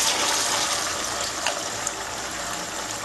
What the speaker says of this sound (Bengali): তেলটা গরম হয়ে গেছে আমি দিয়ে দেবো সবগুলো একসাথেই দিয়ে দেবো